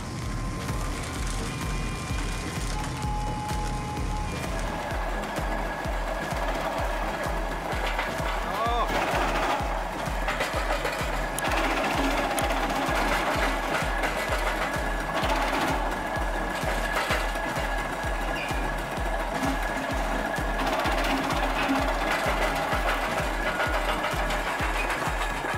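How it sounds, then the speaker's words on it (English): A two-speed conical screw splitter on a firewood processor forces apart large logs, a loud, steady mechanical roar with a rapid, regular low thumping pulse running throughout. "two-speed conical screw splitter demonstrates its ability to split large logs quickly"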